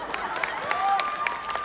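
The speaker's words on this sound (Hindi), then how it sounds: "और ताली बजानी होती ओए" Scattered applause and crowd noise from a college event audience, with some sharp individual claps and a faint whistle or cheer running underneath for a moment.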